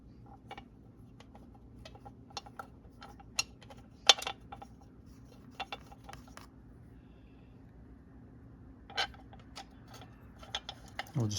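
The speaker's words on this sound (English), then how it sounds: "Now we'll grab the bolts and we'll start torquing down this valve cover." Metal bolts for a Kawasaki ZX6R motorcycle valve cover clink and tick sparsely as they are handled and started, a string of small sharp taps scattered across a quiet workshop background with no talk.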